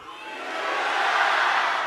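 A theatre audience at a crosstalk comedy show shouts and cheers together, a dense wash of voices that swells louder over about two seconds.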